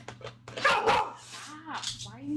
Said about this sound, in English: Come on, you don't need to bark.